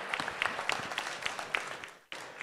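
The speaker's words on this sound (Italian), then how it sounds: "Facciamo un applauso per piacere a Paolo" Applause at a presentation event, a room of people clapping in a busy, uneven patter, moderately close, cutting off abruptly near the end before resuming faintly.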